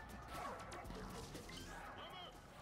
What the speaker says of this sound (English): Pressing R1 does a supersonic bark?